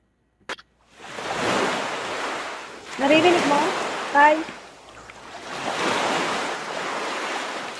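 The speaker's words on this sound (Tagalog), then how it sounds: "Pakinggan mo yung waves." Rolling sea waves surge and recede in broad washes of noise, with a brief voice speaking in Filipino in the middle between swells.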